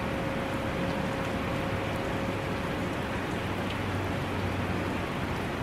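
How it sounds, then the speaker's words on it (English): Steady rain falls and patters on surfaces outdoors, a dense, even hiss holding at constant loudness throughout with no voices. "Look at the rain. It's so rainy."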